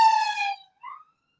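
Police car siren heard briefly, a loud tonal wail that falls away and then returns faintly with a short second tone, as if passing by outside.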